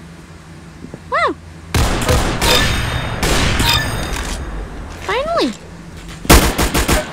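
Bursts of gunfire in the Roblox-style shooter Arsenal on a badly lagging server, coming in uneven broadband volleys between pauses, loud and close, with rising whistle-like game sounds and a player talking.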